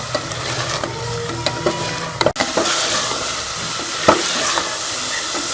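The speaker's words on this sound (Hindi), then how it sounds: "मसालों को जो है वो अच्छी तरह चिकन के साथ भून लेंगे" Chicken fries with spices in a pan for a lauki chicken salan, a loud continuous sizzle with scattered scrapes and knocks of a stirring spoon and one sharp clack partway through.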